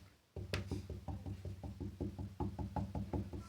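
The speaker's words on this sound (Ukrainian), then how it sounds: "Хто це стукає? Знов той селян." Steady, evenly spaced knocking on a door in the Minecraft video game, about three knocks per second, continuing without pause and with no voices.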